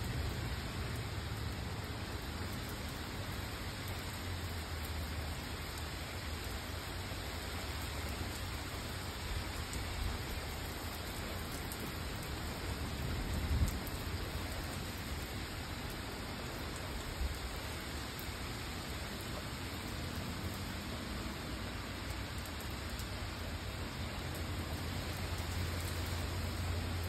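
Steady, even rain pours continuously for a long stretch, heard from a front porch, a dense hiss with a few faint low thumps and no talking.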